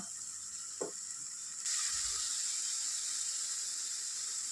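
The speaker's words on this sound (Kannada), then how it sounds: "ಈರುಳ್ಳಿ ಪುದೀನ ಎಲ್ಲ ಹಸಿದೇ ರುಬ್ಕೊಂಡಿರೋದ್ರಿಂದ ಹಸಿ ವಾಸನೆ ಹೋಗೋವರೆಗೂ ಚೆನ್ನಾಗಿ ಫ್ರೈ ಮಾಡ್ಕೋಬೇಕು ಎಣ್ಣೆಲೆ" Onion and mint masala paste frying in oil for an egg gravy, a steady bright sizzle that jumps louder partway through, with a brief utensil clink and a low stir bump, close up and with no talking.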